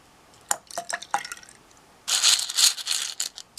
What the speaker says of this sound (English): all you want to do is you want to basically just drop them in